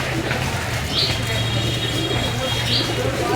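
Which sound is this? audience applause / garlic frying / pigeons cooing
pigeons cooing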